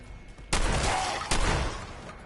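Two loud, sharp gunshots from Fallout 4 ring out close together, each with a lingering echoing tail, spaced under a second apart over a quiet game background.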